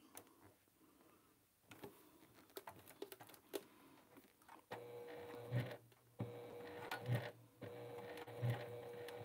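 A sewing machine works on a test bag with a vinyl overlay on the pocket, the presser foot pushing against the layers. Soft clicks and taps come first, then a steadier, faint mechanical run with rhythmic thumps.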